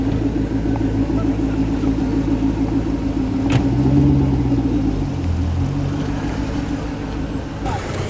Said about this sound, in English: Burble, burble, burble from the Chrysler V8.